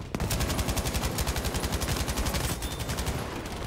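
An automatic gun fires in the video game Battlefield 5 as a rapid, evenly spaced burst of loud shots lasting about three seconds, then stopping abruptly.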